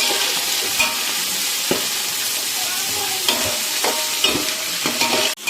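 Onion and green chillies are stirred as they fry in a pan of oil for a chicken gravy: a steady close sizzle broken by several scraping stirs of a spoon, with no talking.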